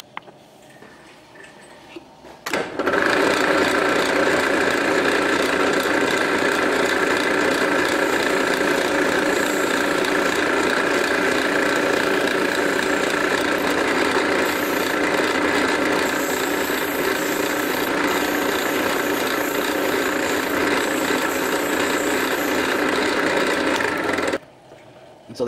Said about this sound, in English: So there you see my beginning sanding.